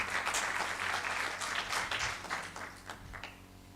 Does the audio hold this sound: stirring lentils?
no